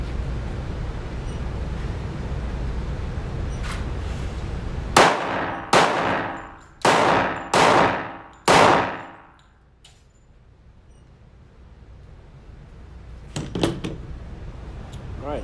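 Five sharp Glock 20 pistol shots ring out at practice targets, fired as a quick pair followed by a rapid string, each crack loud and close with a short ringing decay, and faint clinks trailing afterward.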